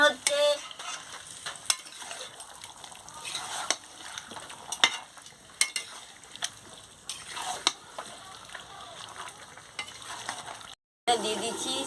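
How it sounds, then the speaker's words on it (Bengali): Meat and potatoes sizzle as they are stirred and fried in a pan, with a soft frying hiss under repeated scraping and clattering strokes of the spoon, irregular and close, with one short gap near the end. "আমি ভালো করে মাংসটাকে কষাচ্ছি"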